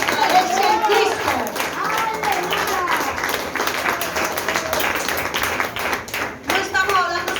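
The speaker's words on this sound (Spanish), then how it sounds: "Un aplauso fuerte al Señor." A church congregation claps loudly in praise, a dense sustained patter of many hands with a voice speaking over it throughout.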